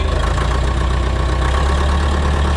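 Farm tractor engine idling at about 1200 rpm in a fast first gear under light load, a steady, loud low rumble that holds even throughout.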